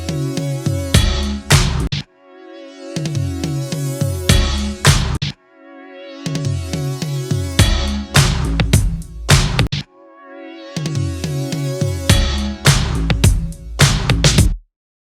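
A Logic Pro Retro Synth patch with a resonant filter and envelope plays loud, bright, buzzy sustained chords in three repeating phrases, each about four seconds long and separated by short gaps, with no talking.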